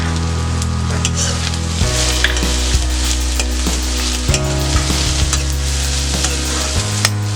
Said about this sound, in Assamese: পিঁয়াজখিনি ৰংচোৱা হৈ যোৱালৈকে লাহে লাহে লৰাই থাকিব।